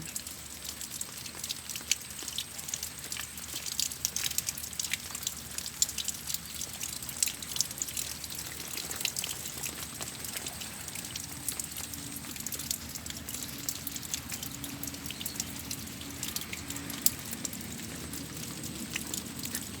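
Steady rain falls with wind during stormy weather on a rice farm, a soft, continuous patter with scattered drips throughout, fairly faint and unbroken, with no voices.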